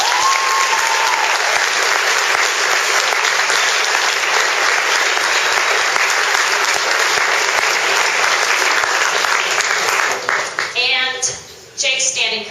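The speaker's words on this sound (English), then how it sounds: "So I want to give them a round of applause." Sustained loud applause from a crowd at a school wind ensemble spring concert, steady and dense, fading near the end as a voice begins speaking.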